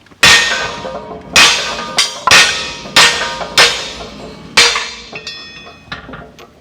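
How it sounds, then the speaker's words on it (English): A heavy hammer strikes a socket held against wheel stud heads, knocking the studs out, about seven loud ringing clangs at an uneven pace, each decaying quickly, followed by a few lighter taps. "Got a socket, putting it around the back side of the stud head, taking a big hammer and whacking it."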